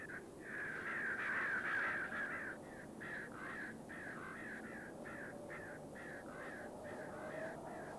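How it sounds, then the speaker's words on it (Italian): Crows caw repeatedly among the ruins of an ancient Celtic site, a long loud call at first followed by a steady series of shorter, evenly spaced caws over a constant background hiss. "Oggi ci vivono i corvi e nel ricordo il loro verso"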